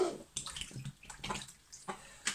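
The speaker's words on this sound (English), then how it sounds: "I'll just put it in a tub and let it soak" Metal parts from a rotating ground mount splash and settle as they are submerged in a tub of brake fluid, giving a few close, irregular sloshing and trickling bursts with no talk.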